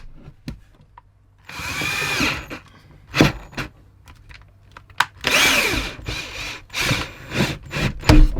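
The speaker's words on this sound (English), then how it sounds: "Bloody insulation in there, getting caught up on the drill bit" A power drill bores through a wall packed with insulation, with bursts of loud whirring and grinding as the bit catches and snags, broken up by pauses, clicks and knocks.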